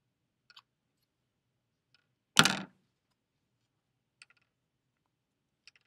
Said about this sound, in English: I'm going to make one tiny cut along this fold, a tiny cut